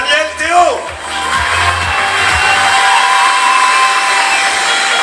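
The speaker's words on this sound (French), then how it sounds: "gardez un tonnerre d'applaudissements pour le grand vainqueur de la catégorie" Crowd cheering and applauding for the category winner at a 24-hour mountain bike race in Normandy, a steady, loud wash of cheers and whoops after a brief announcer's voice at the start.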